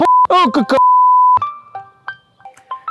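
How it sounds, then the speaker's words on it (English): A phone rings with an incoming call: a steady electronic tone sounds alone, then a string of short beeps and blips follows, close and clear, with a voice talking over the start. "a phone still is a phone, so someone is calling me"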